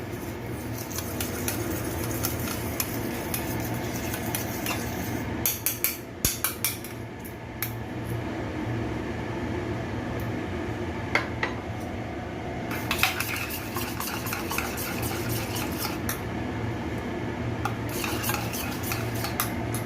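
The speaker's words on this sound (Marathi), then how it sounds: "हे चांगले आपण फेटून घेऊया याची स्मूथ पेस्ट जी होईपर्यंत फेटायची आहे" A butter and garlic mixture for garlic bread is beaten into a smooth paste in a bowl, with rapid metallic clinks and scraping of a utensil against the dish coming in bursts over a steady background hum.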